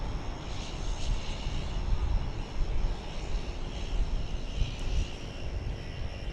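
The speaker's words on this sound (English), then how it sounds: "right behind it is incoming a flight from Detroit, American Flight 1108" An American Airlines jet inbound from Detroit at Dallas Fort Worth airport makes a continuous moderate engine rumble and hiss that swells slightly and stays steady, with no voices on top.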